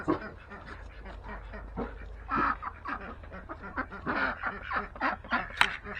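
Ducks quack repeatedly around a feeder outdoors on a sunny day, an irregular run of calls close by, mixed with fowl-like honks and steady background noise, and no one talking over them.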